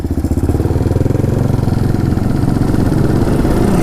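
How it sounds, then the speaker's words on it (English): Dirt bikes, including a Yamaha TW200, approach on a singletrack trail in the Eastern Sierras, their engines a steady, close, fairly loud buzzing drone that keeps rising slightly in level throughout. "Oh, here comes some bikes."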